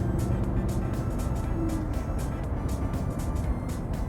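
Lamborghini engine heard from the rear, a steady low rumble with a rhythmic pulsing texture, fairly loud and continuous without any talk.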